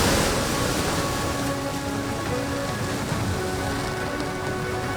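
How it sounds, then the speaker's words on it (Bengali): Steady rain pouring down in Kolkata during a stormy spell, a dense continuous hiss of drops on surfaces with a low rumbling undertone, loud and unbroken throughout with no voices. "এখনো পর্যন্ত বৃষ্টি হচ্ছে, সেটা দেখেই বোঝা যাচ্ছে।"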